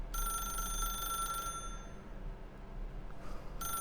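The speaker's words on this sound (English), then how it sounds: "Pick up the phone, and it will take us back home" An old-style telephone bell rings loudly in The Stanley Parable, a steady metallic trill for about a second and a half, then stops and starts again briefly near the end over a low background hum.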